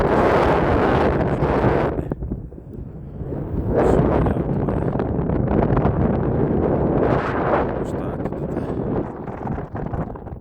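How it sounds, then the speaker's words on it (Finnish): Strong gusting wind buffets the microphone out on open lake ice while ice fishing for perch after a storm, a loud continuous roar that swells and eases in waves. "Navakkaan tuuli ja kyllä se vain ottaa niinku naamalle"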